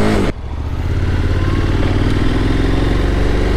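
A 2021 KTM Super Adventure S fitted with an Arrow Sonora exhaust idles steadily after a brief start, giving a loud, close, continuous low burble with an even mechanical rhythm and no talk.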